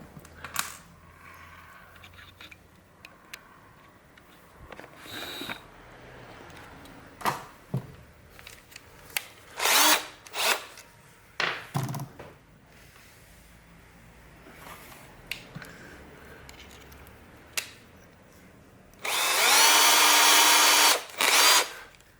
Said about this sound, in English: So I will be drilling through the back.